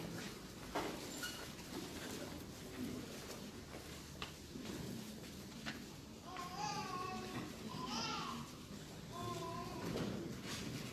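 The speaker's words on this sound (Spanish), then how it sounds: "I love the sound of children." Young children babble and chatter in a room during a church talk, their voices faint and distant over a steady background murmur, with a few small knocks and thumps.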